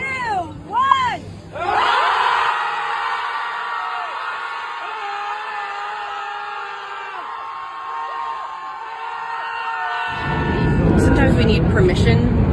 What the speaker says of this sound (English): liberals in Austin, Texas are now screaming at a river every Sunday to protest President Trump